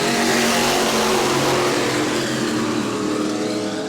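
A pack of E-Mod race cars roaring away at the green flag start at New Smyrna, a loud, dense engine wall at full throttle that stays close and steady without talk.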